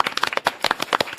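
Clapping from a small studio audience welcoming Democratic Party lawmaker Park Beom-gye onto a talk show; a short burst of sharp, close hand claps with an uneven rhythm.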